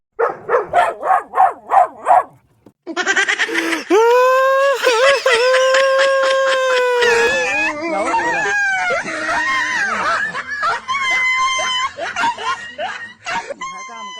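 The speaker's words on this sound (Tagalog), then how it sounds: "Kawawa naman yung aso, napilayan" Several quick yelps, then a long run of high, wavering cries and whimpers from an injured, limping dog in distress, loud and close, with a few laughs mixed in.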